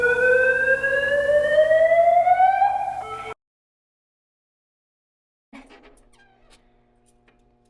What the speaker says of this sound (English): if you kind of notice the noises those alarms were making in the first clip, I'll play it again